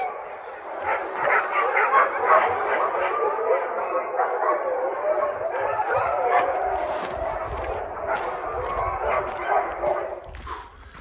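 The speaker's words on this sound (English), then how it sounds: "I hope that's a dog kennel and not a pack of wolves." A group of dogs yips, barks and howls in a continuous chorus heard from a distance across open mountain terrain on the Colorado Trail in the morning.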